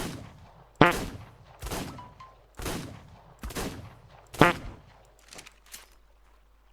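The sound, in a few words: gunfire in ARK Survival Evolved video game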